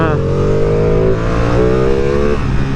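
A 2022 Ducati Streetfighter V2 motorcycle engine revs hard on road or track, its loud, close tone climbing in pitch, dipping, then rising again, with a rider's voice mixed in.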